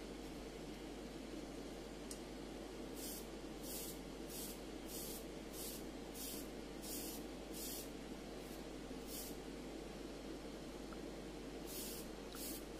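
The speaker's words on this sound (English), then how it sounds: "Most of these parts will be sprayed with a second coat of olive drab" Airbrush or spray can misting olive drab paint onto small scale model parts for a WWII diorama, a steady close hiss running the whole time with a few brief sharper bursts over it.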